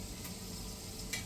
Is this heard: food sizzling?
yes